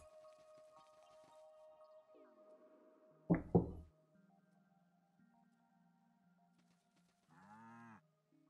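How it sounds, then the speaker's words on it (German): Cows lowing in the farming game Staxel, a couple of close, loud moos in quick succession amid quiet game ambience with soft chimes and tones. "Ja, die Kühe schon muhen."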